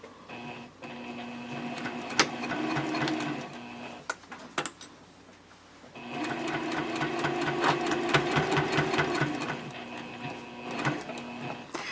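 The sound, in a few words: sewing machine stitching binding on a quilted journal cover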